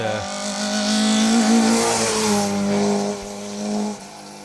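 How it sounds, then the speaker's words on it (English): A classic Peugeot 306 rally car on a closed rally stage passes close by, its engine loud and revving hard with a rising then falling tone, fading as it moves away. "classic Peugeot 306 of Roger Kennedy and Wendy Blackledge"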